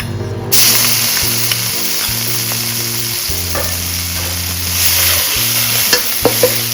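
Pounded shallots, garlic and fresh chili stir-fried in a hot pan, a loud steady sizzle and hiss close up, broken by the scrape of stirring.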